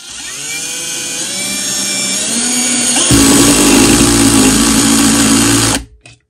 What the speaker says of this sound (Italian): quindi avvitando una vite piccola su una superficie